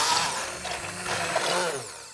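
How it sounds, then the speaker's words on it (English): An immersion blender whirs steadily as it purées an avocado tomatillo sauce in a home kitchen, a continuous close motor buzz with no talking. "so lucky we have an immersion blender"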